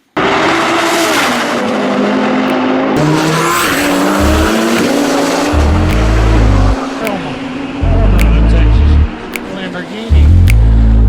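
A Lamborghini sports car roars by at high speed with a rising engine howl and tire noise, loud and close, amid other engine sounds and surges, with voices talking over parts of it.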